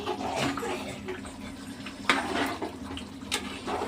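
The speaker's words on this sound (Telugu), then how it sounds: "ఉడుకుతుందండి, కొంచెం ఉడకాలి." A pot of goat head and legs curry bubbles as it boils, giving soft, uneven pops and gurgles with a few sharper spatters at close range.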